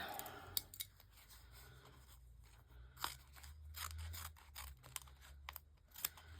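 Scissors snip repeatedly through paper or fabric during a craft stash project, a series of sharp close cuts at irregular intervals over a soft background hum, with no talking.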